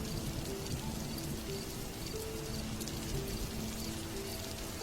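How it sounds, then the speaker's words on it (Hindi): Heavy rain falls as a steady, dense hiss of drops with no break, fairly faint and with no voices. "ऊपर से ठंड और ये तेज बारिश।"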